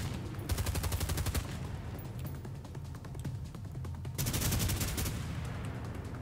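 Rapid automatic gunfire in the video game A Way Out, loud dense bursts of shots aimed at the player, rattling almost continuously with a heavier volley near the end.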